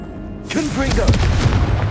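A Confringo blasting spell going off in Hogwarts Legacy: a loud, sudden fiery explosion that bursts in after a brief quiet, with a rumbling crackling tail and a voice over it.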